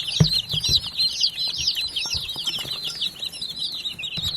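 Several chickens cluck close by on an off-grid homestead in spring, with shrill chirping from young chicks layered steadily over the lower clucks and a few soft thumps.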